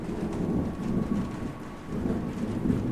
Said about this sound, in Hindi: एक रात काफी बारिश हो रही थी।